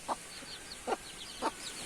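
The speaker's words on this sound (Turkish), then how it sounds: "Bu civcivler de işte arkadaşlar 10 günlük oldular." Ten-day-old chicks and chickens in a coop give three short, soft clucking calls spaced evenly apart, with faint higher peeps between them, all at low volume.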